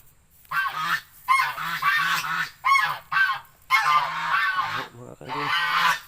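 A pet goose honks loudly and close by in a series of harsh, nasal calls, some repeated in quick bursts with short silences between them.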